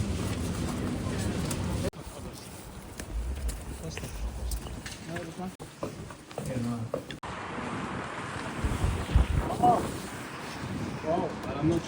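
Winter wind in Sweden buffets the microphone in rumbling gusts while people talk, with an open outdoor roar underneath.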